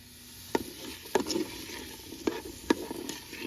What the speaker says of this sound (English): So hear that sizzling? That's already heating up really good.